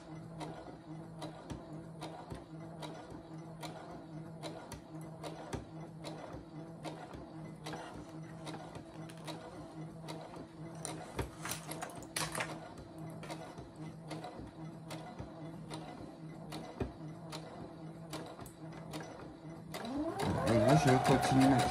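A sewing machine stitches around a double-sided pouch, giving a soft, steady mechanical ticking. The stitching runs at a slowed pace for curves and continues under quiet talk before a louder burst near the end.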